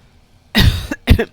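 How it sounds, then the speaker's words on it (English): Two sharp coughs close to the microphone, a brief pause between them, in an otherwise quiet room. "Excuse my cough."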